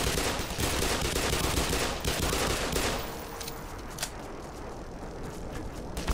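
A weapon in Black Mesa fires a rapid, loud stream of shots for about three seconds, then drops to scattered sharper reports over quieter background noise.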